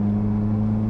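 A 1980s Ford Fiesta XR2 with a four-speed gearbox, driven in third gear: a steady, droning engine hum heard from inside the car, with no talking during the moment.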